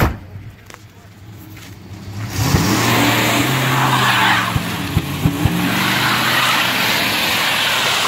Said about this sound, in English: That was a rev and dump.